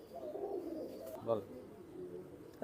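Pigeons coo softly in low, rolling murmurs close by, with a brief flutter and a sharper noise at the end, and someone speaks over them.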